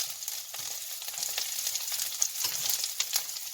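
Green asparagus frying in butter in a pan, a steady close sizzle with scattered crackles and pops throughout, no voices.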